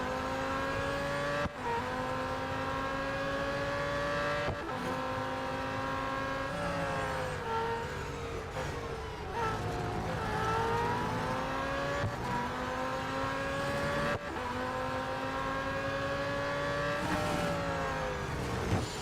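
McLaren Solus GT race car in Real Racing 3, its engine droning steadily with repeated rising and falling revs through gear changes, loud and continuous throughout with no talking.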